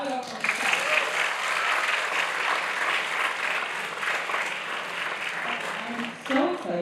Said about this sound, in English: So clap it up for Mustafa.